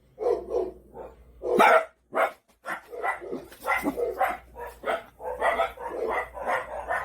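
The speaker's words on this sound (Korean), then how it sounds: "몇 시간씩 짖습니다." A dog barks outside at night in a long, continuous run of loud, close barks, uneven in rhythm with occasional yips, and no one speaks over it.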